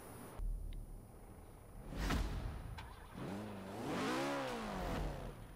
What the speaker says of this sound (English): It's a better sounding engine than the original